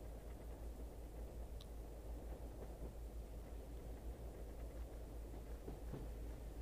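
Passenger train in the Second Life game: a steady, fairly loud low rumble runs throughout with faint rattles on top, no voices.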